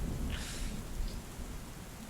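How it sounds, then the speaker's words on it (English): Rain and thunder ambience plays during a tabletop game session, a steady soft rain hiss with a low rumble of thunder, fairly quiet and with no talk. "the sound of rain and thunder is really all you can hear"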